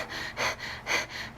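A person imitates rapid, stressed panic breathing, with quick audible inhales and exhales in a steady rhythm, close and breathy, with no words spoken.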